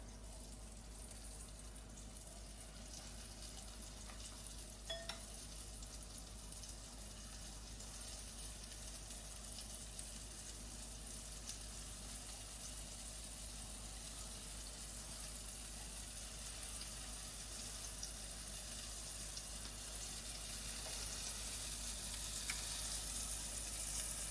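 Four pieces of cod fry in a pan, giving off a steady, soft, even sizzle that barely changes for the whole stretch. No voices are heard.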